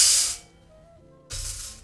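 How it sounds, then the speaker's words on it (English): Soya beans toasting in a dry pan for a multi-grain baby cereal give a loud sizzling hiss, which drops away to near quiet and then returns strongly in the final half second. "So next we are going to be toasting our soya bean as well."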